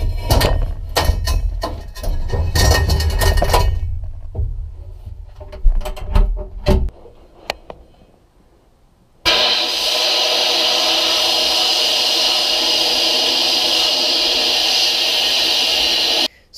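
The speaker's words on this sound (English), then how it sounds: "it's time to put it in the sandblasting cabinet." Clanking and knocking of metal parts, then a loud, steady hiss of a sandblasting cabinet blasting a wheel rim that runs continuously for several seconds before cutting off abruptly.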